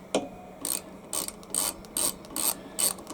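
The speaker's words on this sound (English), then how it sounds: "We'll just undo that bolt." A ratchet wrench loosens a bolt on the rear gearbox cover of an HYM510SPE lawn mower. It gives a steady run of six or seven crisp, close ratcheting clicks, evenly spaced, with no talking.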